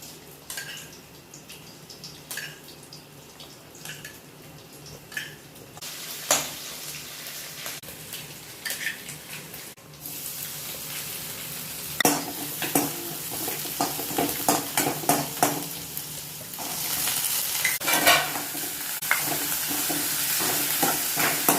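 Chopped ginger stir-fried in a little oil in a wok, with repeated scraping stir strokes and a sizzle that grows louder and denser in the second half, no voices.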